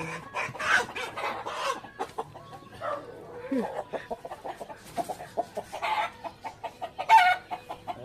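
Rhode Island hens cluck and murmur in a farmyard, with soft, irregular calls scattered through the clip, a few louder squawks, and quiet background noise.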